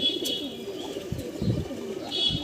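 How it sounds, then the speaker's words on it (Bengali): Male pigeons of foreign breeds, among them Chinese green, Hyderabadi and other fancy types, coo softly at a house, several low, rolling calls overlapping close by. "তো ফ্রেন্ডস আপনারা শুনতেই পাচ্ছেন অনেক রকম বিদেশি পায়রা সমাহার চাচার বাড়িতে"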